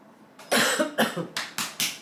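A burst of several harsh coughs in quick succession, close and fairly loud, with no speech.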